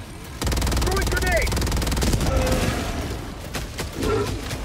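A grenade blast and gunfire in the video game Helldivers 2: a sudden loud boom, then dense rapid shots and battle noise, with voices heard over the fighting.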